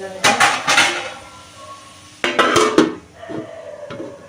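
A metal lid is set onto a cooking pan of onions, with two bursts of clanking and scraping of metal on metal separated by a short pause, followed by lighter knocks.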